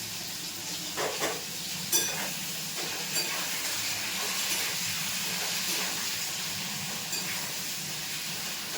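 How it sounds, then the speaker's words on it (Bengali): Sliced potato and pointed gourd fry slowly in a pan, giving a soft, steady sizzle and hiss with a few light scrapes and clinks, fairly quiet and continuous. "ভাজাটা হয় আস্তে আস্তে।"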